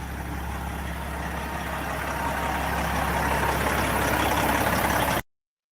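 An old Detroit diesel semi truck engine idles steadily with a deep, rough rumble, growing slightly louder before cutting off abruptly.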